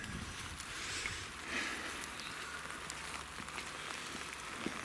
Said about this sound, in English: I can't believe that rain's come from absolutely nowhere.